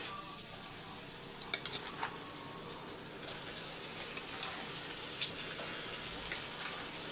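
Eggplant frying among sautéed tomatoes in a pan for eggplant thokku, a steady soft sizzle with scattered light pops and crackles, close by and fairly quiet, with no talk.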